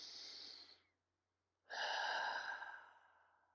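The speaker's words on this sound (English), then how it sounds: "Let's just take a deep breath right now." Two audible breaths, a soft exhale, a short pause of silence, then a deep, louder inhalation that tapers off slowly, close and clear with no talk.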